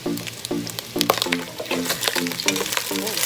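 Browned pork sizzles and spits in a hot pan for Kapampangan pork adobo, with a spoon stirring it in steady rhythmic scrapes about twice a second, close and fairly loud with no talk.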